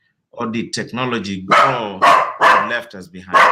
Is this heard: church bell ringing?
no